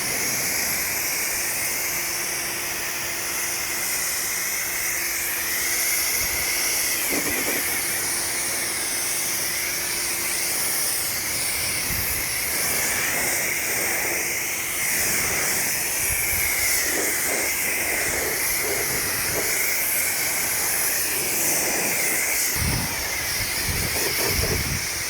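Water from a pressure rinse sprays steadily over a brand-new Mini Cooper being washed, making a loud continuous hiss throughout with scattered splashing and patter.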